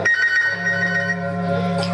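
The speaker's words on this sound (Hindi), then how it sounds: "टेलीफोन आया" A steady tonal telephone ring sustains over two seconds beneath a speaking voice, its sharp pitched layers fading slightly as the talk continues over it.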